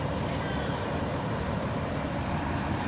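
Fire trucks in a high school senior parade rumble past in a continuous wash of heavy engine and road noise, loud and close, with no voices over it.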